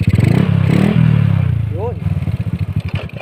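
A Honda Wave 100 motorcycle engine idles near and loud with a fast pulsing putter, briefly rising as the throttle is blipped, during repair work on a bike that would not start and had a throttle cable problem.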